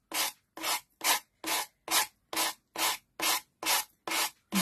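Sanding block rubbing around the edge of an MDF door hanger, ten even, regular strokes of close, harsh scraping separated by brief pauses.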